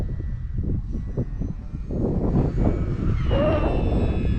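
An FMS Kingfisher RC model airplane flies in strong wind, its electric motor a steady buzzing drone that swells and holds, with a brief whining rise near the end, under gusty wind noise.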